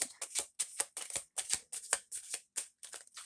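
Rapid, rhythmic riffle of cards being shuffled, a dozen crisp papery bursts in quick succession, close and clear with no talking.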